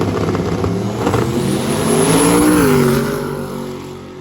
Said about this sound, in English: we have Dustin over here in the Chevy Love Truck. This thing also gets down